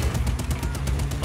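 Rapid automatic gunfire from a machine gun in the action video game Just Cause 4, a loud continuous burst of closely spaced shots filling the whole moment over a low steady rumble.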